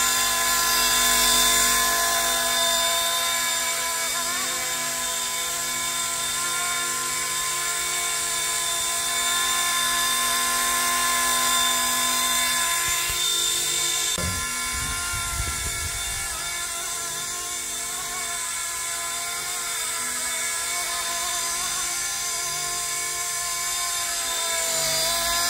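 A remote-control MD500 scale helicopter flies continuously, its rotor and motor whine steady and near, with a brief low thump midway.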